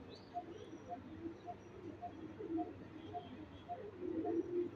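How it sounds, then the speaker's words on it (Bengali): Pigeons kept for flying cooing softly in a loft, a faint, regular series of low repeated coos at a steady rhythm over quiet background hiss, with no talking. "এগুলো কবুতর পাইলা মজা আছে আসলে"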